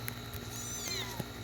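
Cats meowing nearby, a couple of drawn-out high wavering mews over a steady background hum, with a soft knock near the end.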